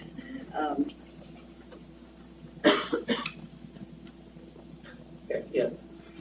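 A person at a city board of aldermen meeting coughs in several short bursts, with one harder fit in the middle and more coughs near the end, over a quiet room hum.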